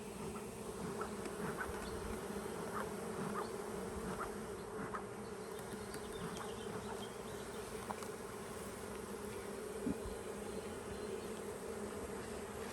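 Honeybees drone in a dense, continuous hum around an opened hive during the first inspection after a swarm, with a close, steady agitated buzz and no talk.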